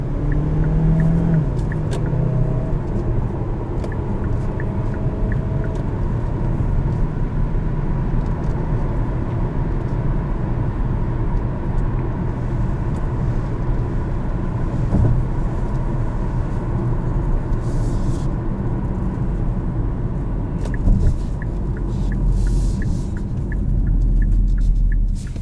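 Engine of a 2021 Kia Sportage SX Turbo SUV droning steadily through a cabin while driving, a continuous loud low rumble with road noise and no talk.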